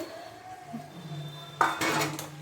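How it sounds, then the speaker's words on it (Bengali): Pointed gourds (potol) are tipped into a cooked spice paste in a pan with a hing seasoning. A quiet simmer gives way to a sudden clatter of vegetables and a metal utensil against the pan, then a soft sizzle. "এবারে আমি পটলগুলোকে দিয়ে দিচ্ছি মশলাটার মধ্যে"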